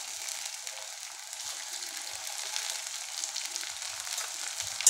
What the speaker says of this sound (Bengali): পেঁয়াজ একটু লাল লাল করে ভেজে নেব